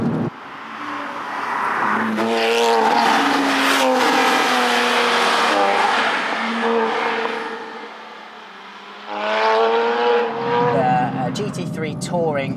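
A 997.2-generation Porsche GT3 Touring modified by SharkWerks drives past, its engine rising through the revs in a long, loud pull, easing off, then revving hard again, close by, with no talk.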